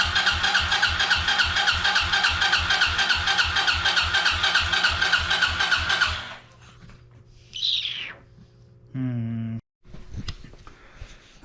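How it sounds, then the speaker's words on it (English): An engine with a refitted carburetor, dosed with starting fluid, cranks in a fast, loud, regular chug for about six seconds without catching, then stops, leaving scattered clicks and brief squealing noises. "I'm getting the same results with this carburetor. It's just chugging."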